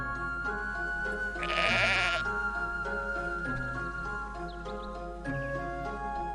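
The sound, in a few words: sheep bleating in the video game Black & White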